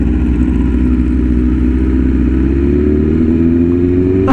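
A BMW S1000RR sport bike with an aftermarket SC Project or Arrow exhaust roars close and loud, its engine note holding steady and then rising in pitch as it revs up.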